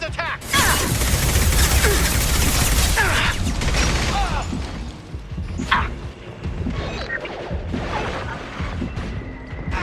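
Heavy gunfire during a Blue Suns attack in the video game Mass Effect 2: dense, continuous loud bursts of shooting and impacts with brief explosive cracks, sustained throughout at close range.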